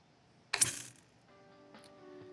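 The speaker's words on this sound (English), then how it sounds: "There's a clicking sound." A clicking sound effect in the Fate/Stay Night visual novel game, one sharp, bright metallic click near the start that rings out briefly, followed by a faint, soft tonal hum.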